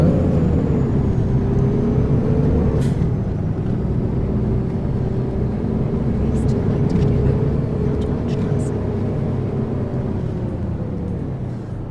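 Steady diesel engine drone of a Mercedes-Benz Citaro city bus on route 264 in the Ruhr area, heard from outside as a continuous loud hum with shifting pitch and faint clicks, no talking.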